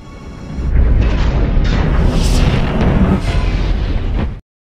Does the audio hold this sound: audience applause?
no